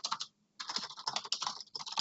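Keys clatter rapidly on a computer keyboard in close, crisp bursts, broken by one brief pause before the typing resumes in a steady stream of clicks.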